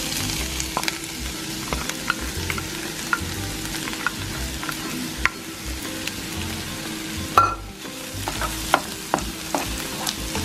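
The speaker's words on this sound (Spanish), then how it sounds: "Aquí ya dejé un poco sofreír la cebolla, no hay que dejarla dorar." Garlic and onion fry in a pan for arroz atollado, a soft steady sizzle broken by clicks and scrapes of stirring, with one louder clatter midway.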